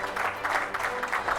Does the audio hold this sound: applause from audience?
yes